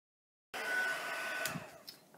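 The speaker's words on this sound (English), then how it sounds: "I'm going to bring in my heat tool and just heat these" A heat tool blows steadily for about a second and a half, melting clear embossing powder on a stamped card; the airy whir starts abruptly after a moment of silence, then fades and trails off near the end.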